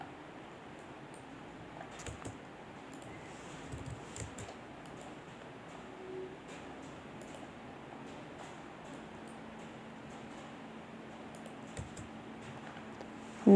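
Soft, quick keystrokes tap on a computer keyboard as AutoCAD commands are entered for a building floor plan, a quiet steady patter of clicks with occasional firmer presses and no talk.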